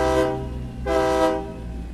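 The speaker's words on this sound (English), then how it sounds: "Love that train horn." In American Truck Simulator, a train horn sounds in two sustained, tonal blasts, each about a third of a second long, heard at moderate distance over a low engine rumble.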